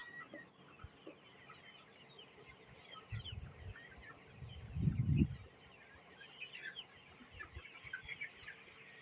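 A desi rooster on a poultry farm clucks in low, throaty bursts, a short run early and a louder cluster midway, over faint background birdsong and no talk.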